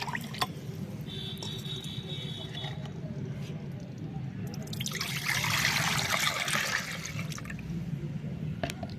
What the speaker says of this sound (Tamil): வேஸ்ட் ஆகாமல் நல்லா அப்படியே தண்ணியில் மிக்ஸ் பண்ணிக்கலாம்